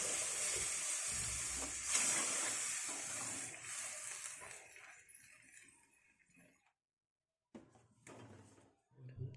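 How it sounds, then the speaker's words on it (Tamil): A loud sizzling hiss bursts up as water hits a hot pan of sautéed tomatoes for turkey berry curry, gradually dying down, followed by a short silence and some faint kitchen clatter. "நல்லா கிளறி விட்ட பிறகு நமக்கு தேவையான அளவுக்கு தண்ணி சேர்த்துக்கலாம்."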